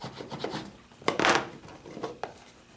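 Quiet, uneven rubbing and scraping strokes as the sides of a handmade wooden lidded box are burnished, with a few sharper swipes and no talking.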